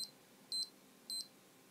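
A CSX C536X heart rate monitor alarm gives three short electronic double beeps, evenly spaced about half a second apart, clear and close against a quiet background.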